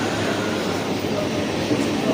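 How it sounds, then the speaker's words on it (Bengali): A Shantipur local train pulls into the station with a loud, continuous rumble and rail roar, while voices are faintly mixed into the noise. "অবশেষে 4:45-এ আমাদের ফার্স্ট ট্রেন শান্তিপুর লোকাল ঢুকলো"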